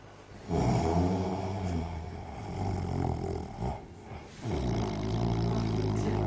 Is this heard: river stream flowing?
no